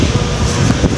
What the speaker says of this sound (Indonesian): wih, anginnya. Kencang ya?